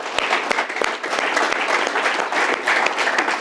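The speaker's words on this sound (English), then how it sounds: "Let's clap hands for that." Audience applause at a business leadership event honouring a company CEO, a dense, steady wash of clapping from a sizeable crowd that stays loud and even throughout with sharp individual claps poking through.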